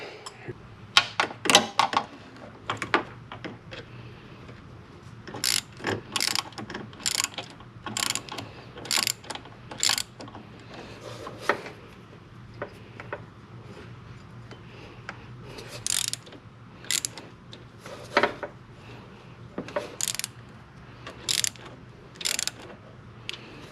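A ratchet clicks in quick bursts while tightening the tensioner on a drive belt of an Acura during a belt and AC compressor replacement, close and crisp with short pauses between strokes and no talk.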